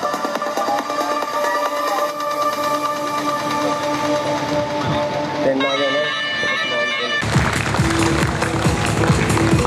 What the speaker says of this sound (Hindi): भरपूर क्लैपिंग होनी चाहिए यार, क्लैपिंग स्लो है